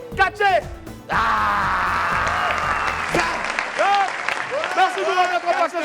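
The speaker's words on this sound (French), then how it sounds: "On va l'applaudir très fort encore, s'il vous plaît." Applause from a studio audience on a French-language show, rising after a brief burst of sound and holding steady, with speech and voices layered over the clapping throughout.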